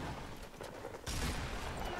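Gunfire in the Fortnite Battle Royale video game, a dense burst of shots that starts abruptly about halfway through and carries on steadily to the end, loud and close.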